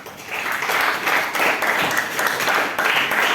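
A classroom full of people claps together for a few seconds, brisk and fairly loud, with no one speaking.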